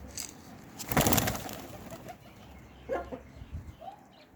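Soft pigeon coos sound nearby, with a burst of rustling or wing flaps early on and a low outdoor background.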